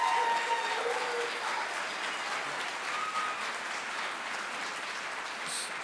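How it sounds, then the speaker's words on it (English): An audience at a Master of Public Administration hooding ceremony applauds, a steady wash of many hands clapping at moderate distance that holds evenly for several seconds, with no talk over it. "Can we just give her a round of applause?"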